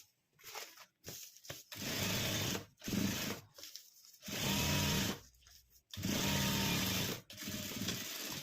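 A sewing machine stitches fabric cut from a blouse piece into a homemade purse, running in several loud, close bursts of rapid whirring with short pauses between them.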